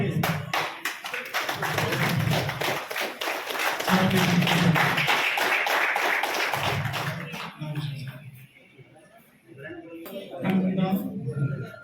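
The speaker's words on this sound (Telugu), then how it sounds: "అందరు క్లాప్స్ ప్లీజ్" A crowd applauds at a Telugu alumni reunion gathering, bursts of clapping rising and fading over several seconds while someone speaks loudly over it, ending quieter before talk resumes.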